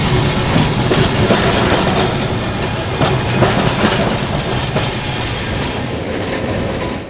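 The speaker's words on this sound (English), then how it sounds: "This is the oldest electric tram operating in New Zealand." A 1902 Brush B-class electric tram, New Zealand's oldest operating one, rolls along a heritage tramway with steady loud rumble and rhythmic wheel clatter on the rails, close and continuous.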